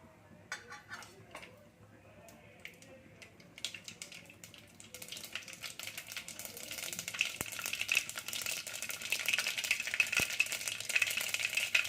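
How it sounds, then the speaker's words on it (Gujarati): Mustard seeds splutter and pop in hot oil in a pan while cooking a Kathiyawadi drumstick curry, a dense crackling sizzle that grows louder over time, steady and close. "રાઈ આપણી ફૂટી ગઈ છે"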